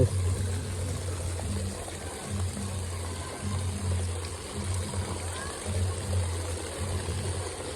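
Water flows steadily at the Panchamukhi Ganesh statue in Pokhara, Nepal, as a faint, continuous rushing wash over a low steady hum.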